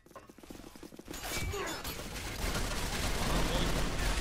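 Gunfire crackles through a snowy Arctic Combat firefight, a dense, continuous burst of shots and mechanical clatter that grows louder after the first second, mixed with a voice talking over it.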